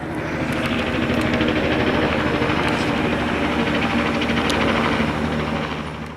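A helicopter flies nearby with a loud, steady, dense whir of spinning rotor and turbine drone that holds throughout, with a slight fade at the end and no voices.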